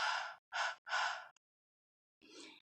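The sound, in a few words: breathing onto tacky nail polish to moisten it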